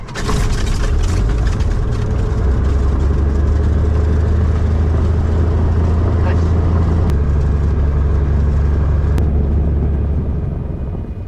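Small single-engine propeller airplane's engine catching and running at a steady loud drone, with a strong low rumble throughout and a pilot's voice over it.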